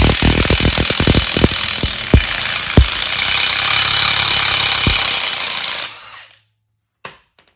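A Milwaukee Fuel 3/4-inch cordless impact wrench cranks off old rusted nuts in a field, hammering loudly and continuously for about six seconds with sharp clunks at the start, then stops, followed by one brief knock.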